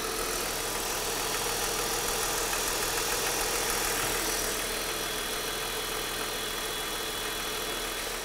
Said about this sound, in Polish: jeszcze jeden parametr, który mogę sprawdzić, to głośność pracy silnika